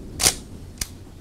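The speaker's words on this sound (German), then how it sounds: "die hat schon ein ganz besonderes Auslösegeräusch, alles sehr satt" Shutter release of a Konica Autoreflex T3, a fully mechanical 35mm SLR film camera: a crisp, solid snap followed about half a second later by a shorter second click, close up and isolated.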